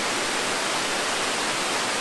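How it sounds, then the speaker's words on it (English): Water pours steadily over the man-made mill weir at Quarry Bank Mill, a dense, unbroken rushing hiss that stays close and even throughout, with no voices. "This weir, obviously not a natural waterfall."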